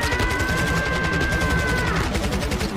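Rapid automatic gunfire in a video game, a continuous dense rattle of shots with a steady tone over it, fairly loud and with no talking.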